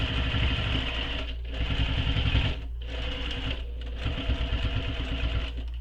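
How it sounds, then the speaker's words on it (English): A sewing machine backstitches back and forth over a backpack strap, its motor humming in a fast steady needle rhythm with brief pauses where the stitching reverses direction, loud and close with no talk. "Going to backstitch over where the strap is a few times."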